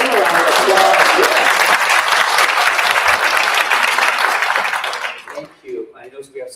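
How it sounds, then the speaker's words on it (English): An audience at a University of Utah College of Education event claps loudly and continuously for graduate students, the dense applause fading out after about five seconds into quieter room sounds. "let's give them a round of applause"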